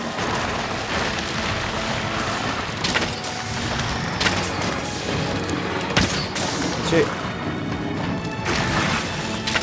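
Repeated weapon shots in the action game Monster Hunter World, arrows loosed again and again in a hunt, sharp impacts and crashes spread through a busy, loud mix of game sound with a voice talking over it.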